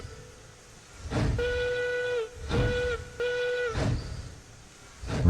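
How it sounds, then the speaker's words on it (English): A steam locomotive whistle in the Railroads Online train game sounds in three sustained blasts with short gaps between them, loud and near, over low rumbling chuffs. "I want to know where our whistle is"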